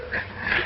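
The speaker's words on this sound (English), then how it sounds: "Are you sure this is the dog we want?" Dog making a short, close vocal sound, a brief whimpering bark or growl lasting under a second, heard alone without talk.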